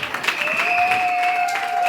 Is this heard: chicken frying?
no